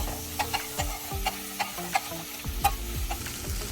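Celery sautéing in a tablespoon of olive oil over medium heat, a steady close sizzle with repeated sharp scrapes and clacks of stirring in the pan, no talking.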